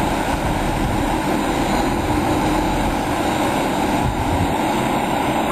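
A Whirlpool Jet Boat on the Niagara River runs its engine with a steady, loud droning roar and hum, unbroken throughout, with no voices.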